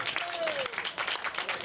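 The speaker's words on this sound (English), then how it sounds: "Give her a round of applause." Applause from the audience at an inspirational talk as a trauma surgeon keynote speaker is introduced, a continuous soft wash of clapping heard from a distance, with a faint voice briefly audible over it.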